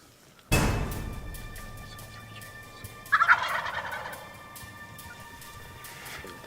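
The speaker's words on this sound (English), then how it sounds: "We just heard the turkeys." A sharp thump opens, then a wild eastern turkey gobbles at middle distance on a hillside in a quiet evening outdoor setting, followed by faint rustling.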